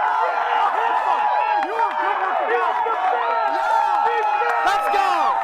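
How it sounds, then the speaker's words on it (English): A live studio audience at a contestant vote cheers and whoops loudly, a sustained roar of many voices with shouts and yells rising and falling throughout. "A lot of cheering going"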